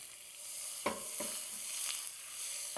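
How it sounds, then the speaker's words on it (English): Butter sizzles in olive oil in a Copper Chef pan, a steady close crackle with a few sharper pops and spatters. "first we're gonna start with a little bit of olive oil. And then we're gonna drop in our butter."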